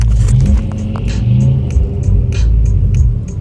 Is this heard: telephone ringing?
no